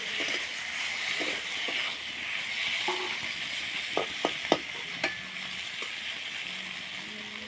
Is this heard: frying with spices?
yes